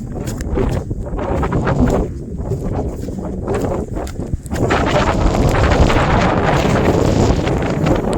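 Strong wind gusts across the Salvav hill viewpoint in Gujarat, roaring and buffeting the microphone in loud, rumbling waves that ease briefly before surging back harder for the rest of the stretch.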